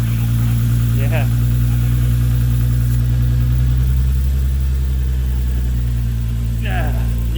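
A VW MK4 GTI with a VR6 engine idles steadily and close by just after being reinstalled, a low continuous rumble running throughout while people talk over it.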